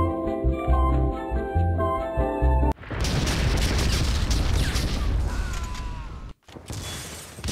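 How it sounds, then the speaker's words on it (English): Grenade explosions in a video game: a loud sustained blast roars for several seconds after a burst of game music, cuts out briefly, then resumes with rumbling debris. "The explosions last so long!"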